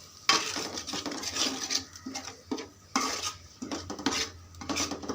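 Ginger garlic paste frying in hot oil for fish pulusu, with steady sizzle under repeated clinks and scrapes of a metal spoon stirring against a pan, close and moderately loud, no talking.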